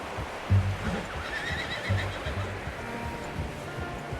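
A horse in the Red Dead Redemption 2 video game gives a whinny amid low ambient rumble, with a couple of stronger low thumps near the start and middle, moderately loud and alone without talk.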